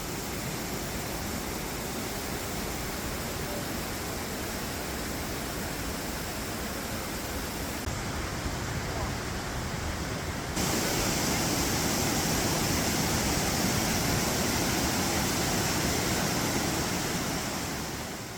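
Waterfalls at Plitvice Lakes in Croatia roar in a steady, dense rush of falling water that stays loud and unbroken throughout, swelling slightly partway through, with no voices.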